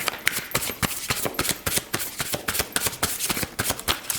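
Tarot cards shuffled by hand for a reading, giving a rapid, dense run of papery riffling flicks that carries on steadily throughout, close and fairly quiet.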